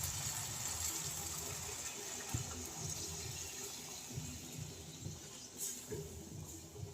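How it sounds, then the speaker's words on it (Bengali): Chickpea boiling water poured into a pan of chana paneer curry, a continuous gushing, splashing liquid stream with low bubbling underneath, steady and close. "আমি ছোলাটা সেদ্ধ করে রেখেছিলাম যে জলে, সেই জলটাই আমি অ্যাড করব"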